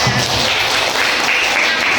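Classroom applause during an Arabic language practical teaching exam, a loud, close burst of students clapping together that fills the short clip at a steady intensity.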